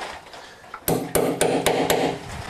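A hammer drives a piano tuning pin into the pinblock with five sharp metallic strikes, close and evenly spaced after a quiet start.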